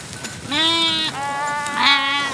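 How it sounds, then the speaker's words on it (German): Steinschaf sheep, a small, rare Alpine breed, bleat loudly and close by, with two drawn-out wavering calls in quick succession in an open mountain setting. "Das ist eine ganz selten gewordene Rasse, die nennt sich Steinschaf."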